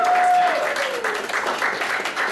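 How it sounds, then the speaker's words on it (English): An audience at an anime convention panel gives a round of applause, a dense, steady wash of many hands clapping at moderate volume, with a voice over the start. "Give a round of applause"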